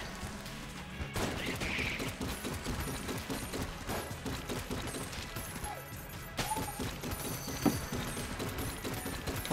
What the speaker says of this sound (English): Back to the cheese gun.